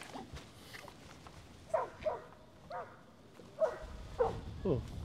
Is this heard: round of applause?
no